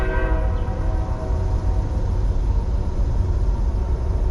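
A train horn blares at a level crossing at the start over the heavy, continuous rumble of a passing train, then the steady roar of rolling cars carries on.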